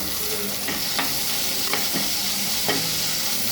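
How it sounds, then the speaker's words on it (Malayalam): Chopped green chillies and tomatoes sauté in a hot pan for a Kozhikode fish curry, giving a steady close sizzle with a few sharp stirring scrapes of the spoon against the pan and no talking. "ഇതൊന്ന് നന്നായിട്ടൊന്ന് വഴറ്റിയെടുക്കാം"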